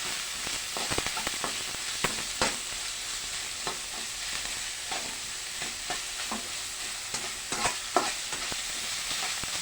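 Ground meat sizzles in a hot pan for ginisang kalabasa, a steady frying hiss close by with frequent clicks and scrapes of stirring.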